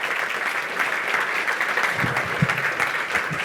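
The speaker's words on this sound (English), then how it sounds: "That's a round of applause." Audience applause at a live business coaching event, a steady wash of many hands clapping throughout, with a few louder low thumps near the end.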